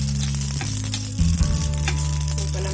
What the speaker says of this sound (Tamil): எல்லாம் பொரிய ஆரம்பிச்சிருச்சு